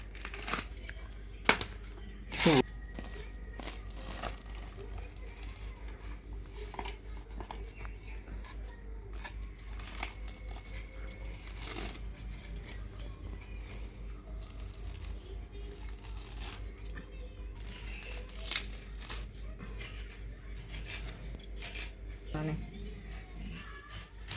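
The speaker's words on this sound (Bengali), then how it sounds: "তাল দুটো ছাড়িয়ে ঘষে নেবো" Ripe toddy palm fruits being peeled and rubbed by hand in a home kitchen, giving faint, intermittent tearing and crinkling with a few sharper knocks near the start, low and steady under a soft background voice.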